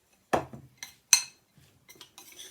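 Oatmeal stuffing mixed by hand in a bowl, a few separate clinking and scraping knocks against the bowl, fairly close and fairly loud, with quieter rustles between them.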